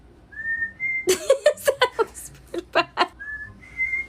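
A person whistles a few sustained notes, then a rapid run of short, bright whistled tones, and ends with more held notes.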